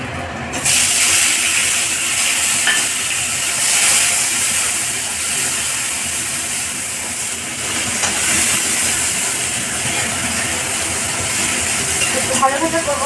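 Onion, tomato and green chili fry in a pan with a steady, loud hissing sizzle that fills the whole stretch, starting abruptly as the vegetables go in, with faint speech underneath.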